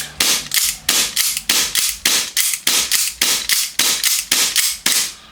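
Pistol fire from an Army Armament R604 STI DVC 4.3, with about fifteen sharp, loud shots in a steady, fast rhythm, each snapping cleanly and decaying quickly, with no talking over them.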